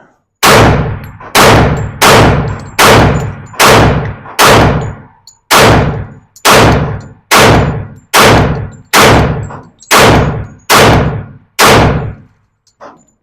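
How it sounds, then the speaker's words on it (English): A Glock 41 .45 pistol fires a steady string of about thirteen loud, sharp reports at an even pace, each ringing out briefly before the next, with no talking. "I want to stay here all day and shoot."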